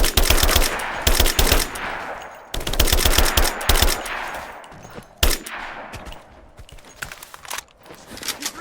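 Gunfire in Rise of the Tomb Raider, loud rapid bursts of automatic fire in repeated clusters with brief pauses between, mixed with scattered single shots close by.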